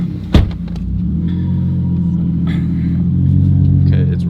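A Lexus IS300 sleeper build with a newly installed ATF Speed A340 Stage 4 automatic transmission pulls away, its engine a steady low rumble with a sharp knock or clunk near the start, then the drone builds slightly toward the end.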